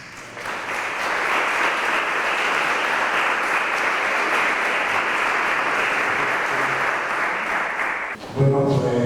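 At a flamenco day event in Ojén, an audience gives a speaker a strong, sustained round of applause for about eight seconds, ending abruptly as the room settles.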